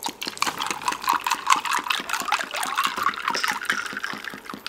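Water trickles and splashes steadily as it is poured into a cup or glass at a mealtime, a continuous close liquid sound with no talking.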